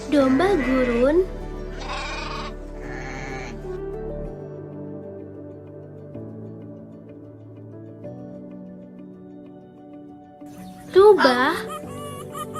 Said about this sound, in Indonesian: domba gurun